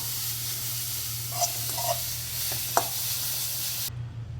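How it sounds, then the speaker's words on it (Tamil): Beetroot stir-fried in a pan for a beetroot curd pachadi gives a steady close sizzle with a few soft stirring scrapes, heard alone and cutting off near the end. "இப்போ பீட்ரூட்டை ஒரு பரட்டிட்டு அடுப்பை ஆஃப் பண்ணிடலாம்."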